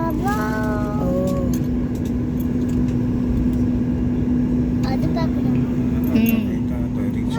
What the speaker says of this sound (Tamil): டேக் ஆஃப் ஆகுது.